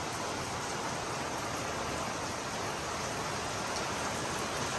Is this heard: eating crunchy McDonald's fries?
no